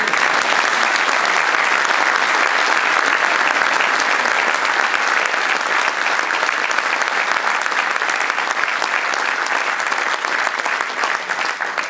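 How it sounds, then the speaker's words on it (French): A large audience at a theatre performance gives loud, dense applause that holds steady for the full twelve seconds without a break. "je voudrais qu'on applaudisse très très fort Jeanne et Dominique"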